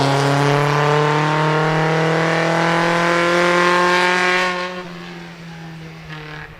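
A vintage Vale sports car races hard up the Prescott hill climb, its engine note loud and steady with strong harmonics before easing off and fading as it passes through the S-bends.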